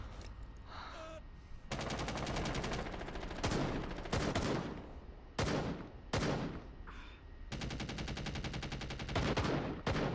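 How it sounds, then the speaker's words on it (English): Automatic covering fire in the tactical shooter Rainbow Six Siege, heard as long sustained bursts of rapid shots broken by brief gaps and sharp single cracks, loud and close throughout. "I'm trying to give you all covering fire"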